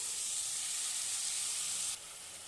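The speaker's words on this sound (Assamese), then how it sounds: "মোৰ এয়া মছলাখিনি ফ্ৰাইটো হৈ গৈছে আৰু এয়া তেলটো ওপৰলৈ বিৰিং বিৰিং ওলাই গৈছে" Spice masala fries in oil, giving a steady loud sizzling hiss close by that drops slightly in level near the end, with no talking.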